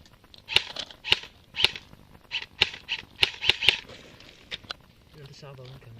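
Airsoft guns fire a salvo during an airsoft game, a run of about a dozen sharp, snappy shots spaced roughly half a second apart, fairly close and loud, with faint voices underneath.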